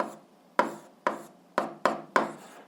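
A pen or marker writes an algebra expression in a row of six distinct short scratchy strokes, each a quick rasp followed by a brief pause, close and clear against a quiet background.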